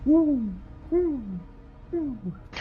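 A voice imitates an angry owl, giving three drawn-out, falling hoots spaced about a second apart, close and fairly quiet with a brief sharp noise at the end.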